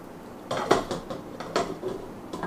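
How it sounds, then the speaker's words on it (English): A metal lid set onto a cooking pot of green cabbage leaves, giving a few close clattering clinks and knocks over about two seconds. "we're going to put a cover on it so it can cook down"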